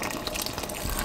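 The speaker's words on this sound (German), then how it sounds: "Jetzt gießen wir das Ganze mit Wasser auf, gekochten" Boiled water pours into a cooking pot in a home kitchen, a loud, close, continuous gushing and splashing fill lasting about a second, with no talking.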